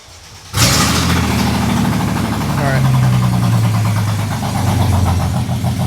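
A Mercedes SLK320 engine cranks and fires up loudly, then settles into a steady, close idle that runs under continuous talk.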